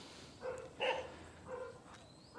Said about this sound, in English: We have some woofy dogs.